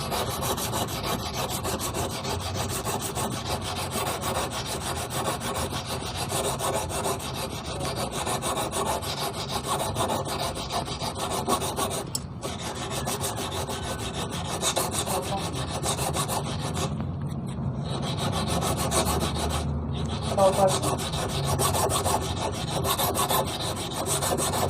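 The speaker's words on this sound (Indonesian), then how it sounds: "Langkah 7, penghalusan atau finishing pakai amplas" Hand-made metal eel fishing hook being smoothed with fine number 1500 sandpaper, a continuous rasping rub of quick back-and-forth strokes, close and steady for the whole stretch, with a few short pauses and no speech.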